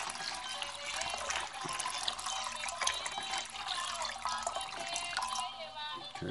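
Starchy rice water pours steadily into a bath for a spiritual cleansing, a continuous splashing trickle lasting several seconds with small dips and surges in flow.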